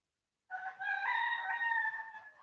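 A rooster crows in one long, strained call that starts abruptly after a brief silence and trails off slightly at the end; no clucking stands out.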